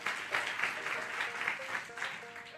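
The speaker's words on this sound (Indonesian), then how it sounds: "kalau mau tepuk tangannya yang paling meriah buat Yesus." Lively audience applause during a church sermon, steady clapping with faint tonal sounds from instruments or voices beneath it, continuing at moderate loudness throughout.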